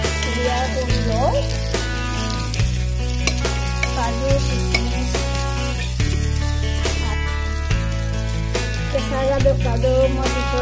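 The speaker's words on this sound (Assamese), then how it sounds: "মোৰ বিৰিয়ানীখিনি ফ্ৰাই কৰা হৈছে" Rice for chicken biryani fries in a pot with a continuous loud sizzle, and a spoon stirs and scrapes through it at a regular pace.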